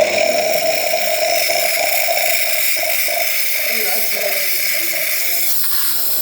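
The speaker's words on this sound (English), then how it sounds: "now we're going to test the steam." A steady, broad hiss of steam from a Saeco espresso machine's steam wand runs throughout at a fairly even level, with faint clinks and small background noises underneath.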